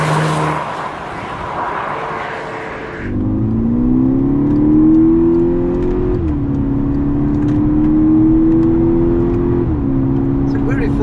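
A Volkswagen Golf GTI Edition 35 Mk6 engine drones as it accelerates through gears on a country lane, pitch climbing then dropping at each shift, with steady road rumble throughout.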